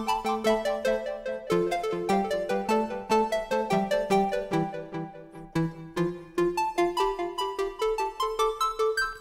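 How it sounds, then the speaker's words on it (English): Bitwig Studio's Polysynth plays with only waveform 2 sounding, giving a busy run of bright, harmonically rich plucked notes in a steady melodic pattern, alone and without speech. "Waveform 2 on its own sounds like this."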